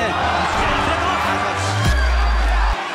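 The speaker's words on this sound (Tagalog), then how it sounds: "Hiyawan ng mga Japanese fans ang dumadagundong sa round na ito" Japanese fans in a packed boxing arena roar continuously during a Tokyo OPBF welterweight title round, a loud dense crowd swell with deep thuds and a sharp impact near the end, under ringside commentary.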